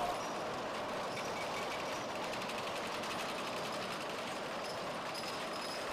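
A jute softening machine runs steadily, its rollers working jute strands in a zigzag path, producing a dense, even mechanical drone with a fine rapid rattle throughout and no pauses.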